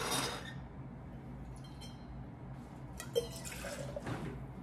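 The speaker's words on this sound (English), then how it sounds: "So we'll start by putting our ingredients into the shaker." Rum poured into a cocktail shaker for a daiquiri, a brief liquid splash and trickle with a faint glassy clink, quiet and close, no talking.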